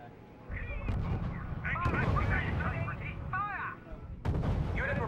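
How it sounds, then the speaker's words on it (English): Anti-tank guns concealed in woods fire across a bridge in the strategy game R.U.S.E: several heavy booming shots ring out over a continuous rumble of battle, with garbled radio-like voices in between. "It looks like the woods are packed with AT guns, and they have enough range to fire over the bridge."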